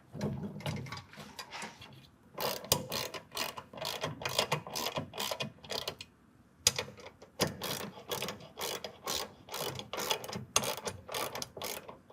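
A 13mm ratchet clicks in quick bursts while snugging M8 bolts on a BedStep2 step linkage on a 2023 Ford F-250 SuperCrew, with rapid pawl ticks, brief pauses between strokes, close up and with no talking.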